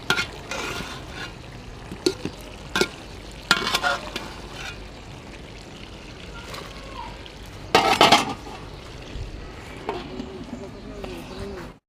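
Flat beans being stir-fried in a pan, with sporadic loud scraping and clanking stirring bursts over a low background sizzle; a voice speaks briefly in between.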